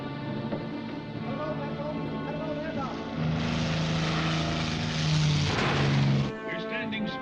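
Propeller aircraft flying overhead, a loud droning engine with a steady harmonic hum that swells as it passes, rising to a peak and then cutting off abruptly.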